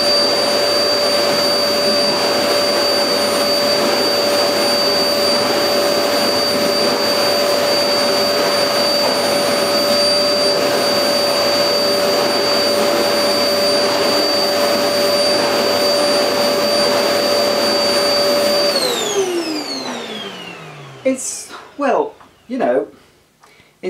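A Goblin GCV301W bagless cylinder vacuum cleaner running with a steady high-pitched whine, then spinning down as the motor is switched off, after which a person begins talking.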